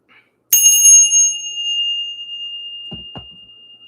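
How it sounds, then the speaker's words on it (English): A bell is struck once to clear energy, its bright ring sustaining and slowly fading over several seconds in a quiet room, with two soft low thumps near the end. "We're about to ring the bell so we can clear out this energy"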